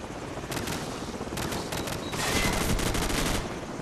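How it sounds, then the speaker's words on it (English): Helicopter gunfire in the Call of Duty 4: Modern Warfare campaign, dense bursts of rapid machine-gun fire over a constant rotor rumble, loud and repeated across several seconds with no talking. "I feel like the helicopter can shoot through the roof in this."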